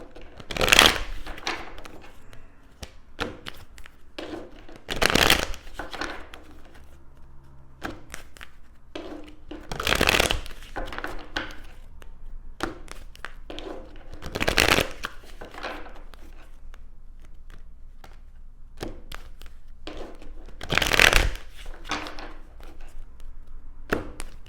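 Tarot cards being shuffled in short bursts of riffling, about five brief rustling passes spaced several seconds apart, close but soft against a quiet room.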